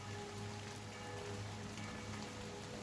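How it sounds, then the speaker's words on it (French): Heavy rain pouring down, a dense, continuous hiss of drops on surfaces with a steady low hum beneath, no voices. "il se met à pleuvoir comme pas possible"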